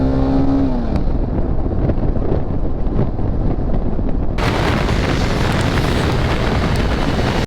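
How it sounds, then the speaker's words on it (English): A motorcycle coasts in neutral while riding: engine tone drops away in the first second, leaving loud, continuous wind and road rush that surges even stronger partway through. "Let's try shifting to neutral gear while riding."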